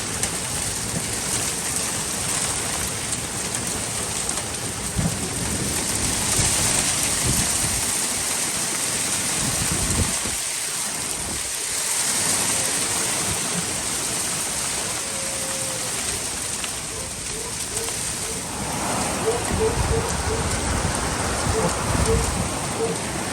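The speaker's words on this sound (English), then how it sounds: "Wow, this is one heck of a storm." Steady, dense rainfall roars for the whole stretch, a broadband wash with no clear pauses, loud and close throughout.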